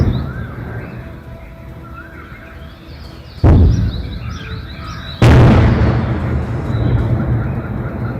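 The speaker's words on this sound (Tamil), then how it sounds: "அந்த வெடி சத்தத்தை தற்போது நாம் கேட்கலாம்" Two loud, sharp explosions from shelling at the Jammu Kashmir border, each a sudden boom followed by a long rumbling decay, heard at a distance over steady outdoor ambience with faint bird calls.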